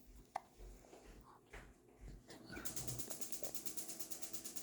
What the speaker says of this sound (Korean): 이거 이게 뻐꾸 소리야, 꾹꾹아, 뻐꾸기